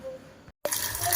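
Water from a tap rushes into a container to soak kolam powder: a softer trickle, a moment of silence, then a loud, close, steady gush.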